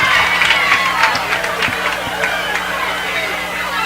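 A football stadium crowd roars in a dense, continuous wash of booing, cheering and shouting, loud and unbroken throughout, with scattered sharp claps and whistles.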